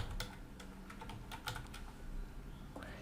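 Someone types a browser settings search on a computer keyboard: a quick, close sequence of crisp key clicks over a steady background hum.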